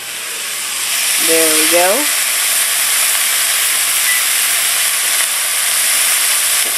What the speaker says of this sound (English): Sausages and onions browning.